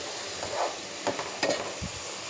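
Ground coriander, cumin and garam masala being stirred into tomato masala rice in a pan, a few short scraping strokes with a soft sizzle underneath, close and fairly quiet.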